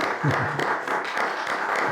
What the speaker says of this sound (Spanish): Pues te damos un aquí fuerte aplauso desde aquí, Juvenal